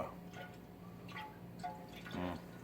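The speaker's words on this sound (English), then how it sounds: "It's kind of starting to slosh more than I want it to" Hard apple cider sloshes and gurgles as it is poured from a tipped container into a jug, quiet uneven splashes and drips coming in a few short bursts, close by.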